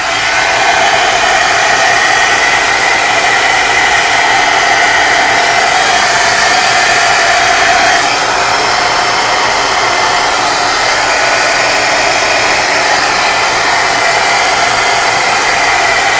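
A hair dryer blowing on artwork runs loud and steady from start to finish, a continuous close whooshing roar with a slight shift in pitch midway and no talk.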